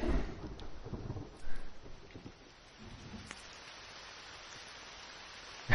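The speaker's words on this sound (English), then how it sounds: "Damn, it's raining too." Rain and thunder in the survival game The Forest, with a low thunder rumble and rain hiss at first that settle into a quieter steady rain wash, and no voices.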